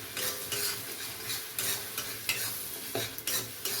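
Spice masala of turmeric and chili powder with a little sugar stirred in a pan for paneer and potato curry, a steady close sizzle broken by the repeated scrape and clack of the stirring spoon, without talk.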